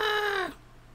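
A single cat meows once, a clear drawn-out tonal cry lasting about half a second before fading into quiet room tone.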